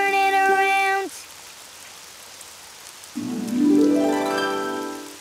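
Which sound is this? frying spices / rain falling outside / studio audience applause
rain falling outside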